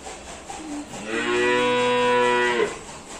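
A single long cow moo from a village cattle shed swells up, holds steady, then trails off, loud and close against a quiet background.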